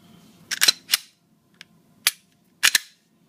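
A Glock 17 Gen4 fitted with an NY1 3.5 connector gives crisp, loud trigger reset clicks, some in quick pairs, spaced by short silences.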